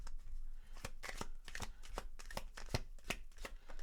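A deck of tarot cards is shuffled close up, with a steady run of quick, crisp riffling snaps and flutters filling the whole moment, no voices over it.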